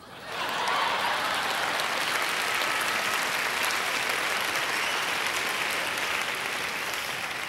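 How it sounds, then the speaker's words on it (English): Sustained audience applause fills a large hall at the 1992 American Comedy Awards ceremony, rising quickly after a brief quiet start and holding steady and dense throughout. "we applaud you"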